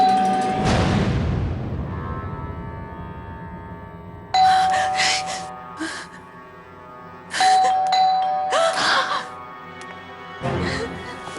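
An electronic calling bell at a house door chimes again and again, loud and close, in several bursts across the stretch, with a voice briefly heard between rings.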